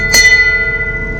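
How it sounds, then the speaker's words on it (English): A single bright strike of a bell aboard a sailboat at anchor, ringing out clearly and decaying slowly into a sustained metallic hum over the remaining second. "starting a little tradition to ring the bell"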